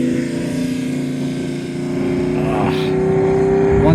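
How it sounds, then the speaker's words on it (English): A vintage Ferrari 166 Inter with Touring coachwork drives past at a raceway warmup, its engine note steady and building, growing louder with a rising pitch sweep as it nears, no talk. "Oh yeah, Ferrari is coming."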